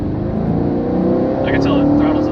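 A 2018 Chevrolet Camaro SS 1LE engine drones steadily from inside the cabin while driving, a low, loud hum that rises slightly, with a voice speaking over it.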